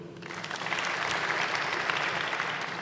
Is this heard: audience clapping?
yes